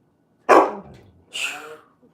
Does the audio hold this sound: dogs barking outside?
yes